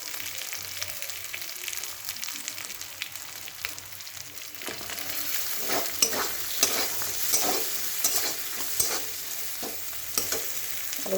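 Green chilies sizzle and crackle in oily fried spice masala as they are stirred in a pan, with steady frying hiss and scraping stir strokes that grow busier and louder partway through.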